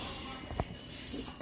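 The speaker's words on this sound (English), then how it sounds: "Non-stick spray." A can of non-stick cooking spray hisses in short close bursts, a brief spray, then a soft click, then another longer hiss and a final short spurt.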